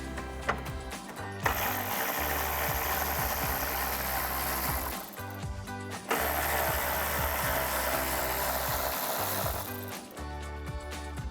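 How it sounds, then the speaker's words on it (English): A hand ratchet with a 10mm socket clicks rapidly and steadily while removing car bumper bolts. Two long runs of close, fast ratcheting are separated by short pauses. "now we can grab our 10mm socket for our two bolts"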